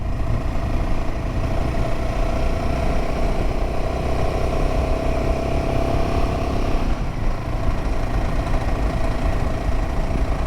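Royal Enfield Himalayan 450 motorcycle engine under way on a ride, a steady loud mid-pitched drone with wind rush, holding constant for the whole stretch.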